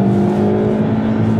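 Car engine held at full throttle on the Haute Saintonge racing circuit, a loud, steady droning roar with a strong constant pitch heard from inside the cabin, running continuously with no break.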